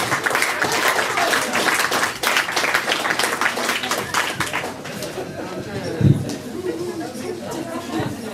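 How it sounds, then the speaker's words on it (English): Wedding guests applaud after speeches, with dense clapping that fades over several seconds and chatter and voices mixed in. "So a round of applause for Amanda for doing those."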